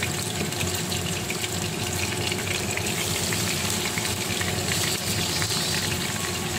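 Chicken sizzles steadily in hot oil in a kadai, a dense, loud crackle and hiss that carries on without a break and with no voices over it.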